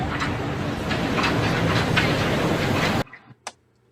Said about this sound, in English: Oh, there's the monorail.